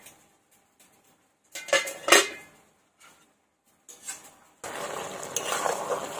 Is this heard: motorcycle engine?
no